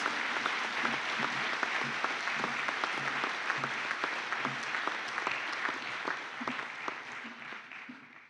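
Sustained audience applause for graduates at a graduation ceremony, a steady dense wash of clapping from a large crowd continuing for several seconds, evenly loud throughout.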